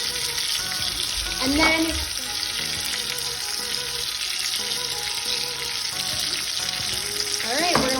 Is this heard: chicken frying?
yes